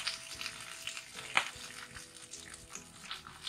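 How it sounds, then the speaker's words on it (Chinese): Potato slices pan-fry slowly under a lid over low heat, making a faint, soft sizzle and crackle with one small sharp pop. "加盖儿，一直保持小火煎2分钟左右"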